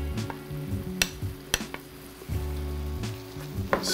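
Mushrooms stirred into a risotto pan on the stove, with a spoon scraping and knocking against the pan in a few sharp clicks over a low sizzle, while steady tonal background music plays.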